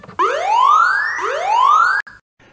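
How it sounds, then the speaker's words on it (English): A custom bomb-drop siren sound plays from a RadioMaster Zorro radio transmitter: two loud, rising electronic wails, each sweeping upward before restarting. The siren then cuts off abruptly. "I did one recently for a bomb drop and the first flick of the switch says bomb drop initialized and it starts making a siren."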